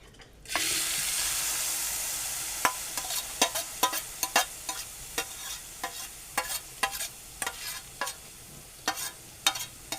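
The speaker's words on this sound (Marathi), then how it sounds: "आणि आपण परतून घेऊ जराशी." Cooked moong dal being stirred and sautéed in a hot pan for moong dal halwa, with a steady sizzle from the start and a series of sharp spoon scrapes and knocks recurring through the rest, close and alone without talk.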